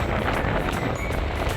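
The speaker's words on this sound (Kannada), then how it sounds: "ಅಷ್ಟೊಂದು ಗಾಳಿ ಬೀಸ್ತಾ ಇದೆ" Strong, continuous wind roars and buffets across an exposed mountain peak in Karnataka, a dense broadband rush with gusty surges and no voices.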